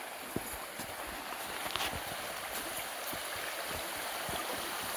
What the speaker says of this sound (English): I like the river, nice river